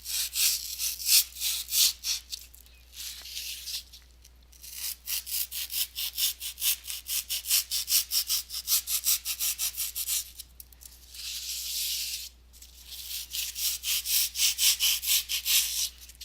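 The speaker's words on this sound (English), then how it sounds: "I acknowledge the sound of sawing foam is not the most exciting" Foam being sawn by hand to make cosplay swords, a close, loud, steady rhythm of rasping back-and-forth strokes in long runs broken by brief pauses.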